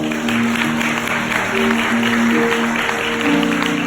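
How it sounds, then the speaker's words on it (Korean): Wedding guests clapping in a hall after the ceremonial candles are lit, a continuous wash of applause mixed with sustained background music and faint voices. "큰 박수 부탁드립니다"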